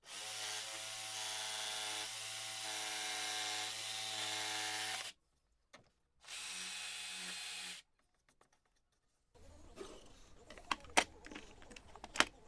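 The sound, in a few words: flush trim router removing sharp edges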